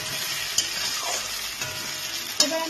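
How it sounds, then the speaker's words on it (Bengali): Potatoes frying with onions in a pan, a close, steady sizzle with a few sharp scraping stirs of a utensil against the pan. "আলুটাকে আমার পেঁয়াজের সাথে ভালো করে ভাজা হয়ে গেছে"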